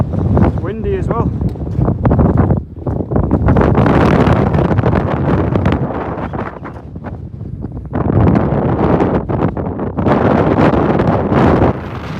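Strong wind buffets an exposed fell hillside in the northern central fells, with loud gusting roar and mic-battering surges that ease briefly and return.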